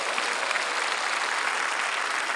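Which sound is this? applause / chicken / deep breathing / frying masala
applause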